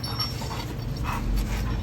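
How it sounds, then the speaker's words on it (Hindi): A German Shepherd growls in a low, continuous rumble close by, with steady background noise and no talking. "और ये गुर्रा रहा है ना इसके।"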